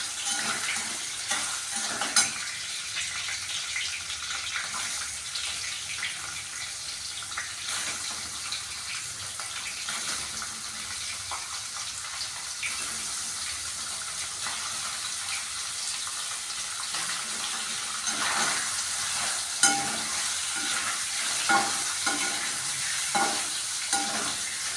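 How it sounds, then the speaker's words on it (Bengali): Paneer cubes fry in hot oil for a potato-and-paneer curry, a steady close sizzle and hiss running throughout with scattered clicks and scrapes of stirring and no talk. "এখন তেলটা গরম হয়ে গেছে, আমি পনিরগুলো ভেজে নেব।"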